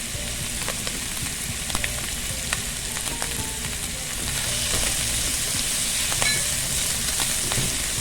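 Mushrooms frying in a pan with herbs, a constant crackling sizzle with scattered small pops and ticks, growing slightly louder partway through, no voices.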